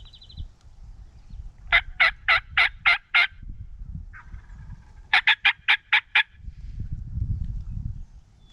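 Wild turkey gobblers sound off in two loud, rapid bursts of rattling gobbles, each a string of about six quick pulses, clear and fairly near outdoors, with rustling and footsteps between them.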